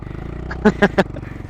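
A Honda Monkey 125 motorcycle on an off-road trail gives three quick, punchy engine blips in a row over a steady low running hum.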